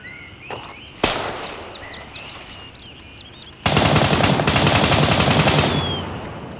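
Gunfire in the military shooter Gray Zone Warfare: a single sharp shot, a quiet pause, then a loud sustained automatic burst of rapid cracks that tails off, close and alone without talk.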